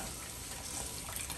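Water being dumped out of a CPAP hose, a continuous faint splashing and pouring rush with no talk.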